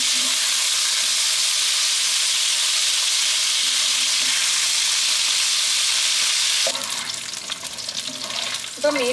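Fish pieces frying in hot oil for a Kerala-style fish pickle, a loud, steady broadband sizzle that carries on unbroken, then thins into crackling and a brief stir or clatter near the end.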